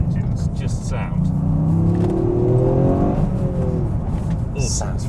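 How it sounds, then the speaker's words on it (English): Three-cylinder engine of a Toyota GR Yaris revs up, a buzzy rising whine climbing in pitch over a heavy low rumble, heard from inside the car close up, then easing off. "for me, these little three-cylinder engines just sound"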